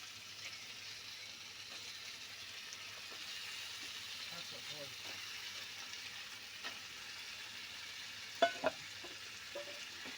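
Chicken cut into curry-size pieces, about a kilogram, being stirred into a spice paste frying in a pan: a steady low sizzle with occasional scraping knocks of the spoon, faint and continuous.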